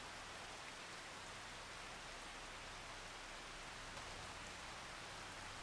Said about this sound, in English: I wish this rain would ease up a little bit